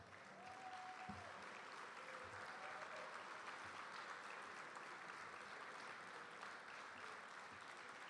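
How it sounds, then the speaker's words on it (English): An audience at an EMS awards program applauding as staff stand up, a dense, steady wash of many hands clapping for the whole stretch, fairly distant and even. "It's a well-deserved round of applause for all of these young ladies and young men"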